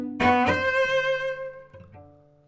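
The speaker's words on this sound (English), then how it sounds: "this figure that's very agitated is a quick dotted rhythm" Agitated, quick dotted-rhythm figure with a large leap from an orchestral piece by Korngold, heard as a short burst of bright instrumental notes that sustain and fade over a couple of seconds.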